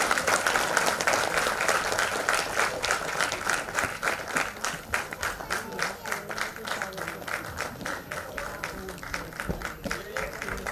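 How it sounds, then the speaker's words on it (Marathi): An audience at a celebration marking 100 years of Veer Savarkar breaks into loud, sustained applause. The clapping starts dense and gradually thins into more distinct, rhythmic claps, with some crowd voices mixed in. "जरा जोरदार टाळ्या."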